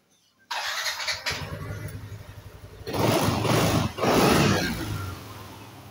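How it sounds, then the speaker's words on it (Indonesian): A Yamaha NMAX scooter engine starts after a brief whirring crank, just after an engine oil change, idles steadily, then revs up twice with loud rising surges before settling. "kalau sudah kita bisa menyalakan motornya"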